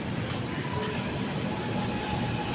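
A train passes close by with a steady, loud rumble of wagons on the rails and faint wheel squeal, with no talking.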